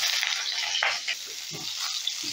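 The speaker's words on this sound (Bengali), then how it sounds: "এবারে ওই তেলেই আমি সেদ্ধ করা ফুলকপিগুলো ভেজে নেব।" Boiled cauliflower frying in oil, a loud, dense, close sizzle with occasional stirring knocks and scrapes, continuous throughout with no one speaking.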